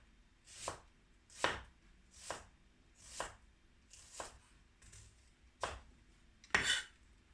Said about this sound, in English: Okay, onions are sliced.